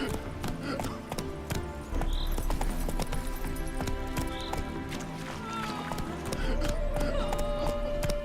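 Hooves of Roach, Geralt's horse in The Witcher 3, clatter in a quick galloping rhythm over a game soundscape with music and ambient tones, the steady hoofbeats running the whole stretch.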